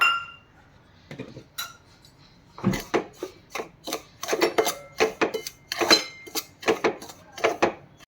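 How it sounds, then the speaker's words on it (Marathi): Turmeric and salt dry-roasted in a pan, heard as scattered metallic scrapes and clinks of a spoon against the pan, irregular and close, over a quiet background with no talk. "हळद घेतलेली आहे तीसुद्धा मिठाबरोबर आपण थोडीशी भाजून घेऊया"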